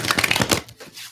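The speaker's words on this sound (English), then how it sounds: "one more shuffle here" A deck of tarot cards is shuffled in a quick riffle of crisp flicks and slaps, close and brief, ending in a soft rustle.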